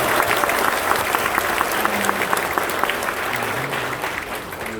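Church congregation applause at a dedication and pastor installation service, a sustained, fairly loud round of clapping from a large gathering, steady and even throughout.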